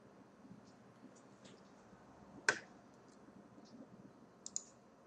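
A single sharp computer mouse click, close and crisp, over a quiet hum of room noise, with a couple of faint lighter ticks following a few seconds later.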